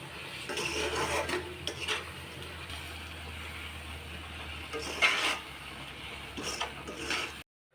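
Boondi mixture with ghee is stirred in a pan for motichur laddu, soft scraping and clinking strokes repeating irregularly at low volume with a few sharper metallic touches.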